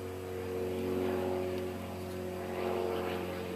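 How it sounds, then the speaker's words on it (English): A red propeller airplane flies overhead, its steady engine drone with strong low harmonic tones holding throughout and swelling slightly as it passes, moderately loud outdoors with no talk. "Hey, it's a red plane."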